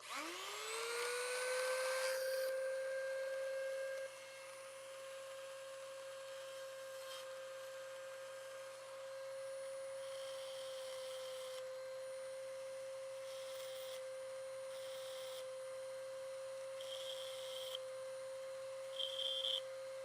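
A handheld Dremel rotary tool spins up to a steady high whine while sharpening a small stubby screwdriver tip, running continuously for about twenty seconds with brief bursts of grinding contact near the end.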